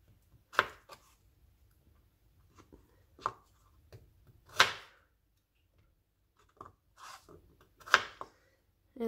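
Knife slicing the ends off garlic cloves on a cutting board while making fried rice, a handful of sharp separate chops spaced out over several seconds, close and crisp.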